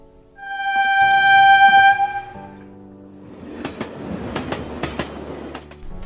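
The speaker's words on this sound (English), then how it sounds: "the train left the station" A departing passenger train sounds a loud two-tone horn blast for about two seconds, then wheels clatter and click rhythmically over the rails as the Abohar-Jodhpur Express pulls out.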